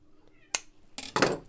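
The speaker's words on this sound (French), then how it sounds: "Ça, c'est le chat qui vient participer." A cat meows briefly nearby in an indoor sewing workshop, two or three short close calls with a faint background voice around them.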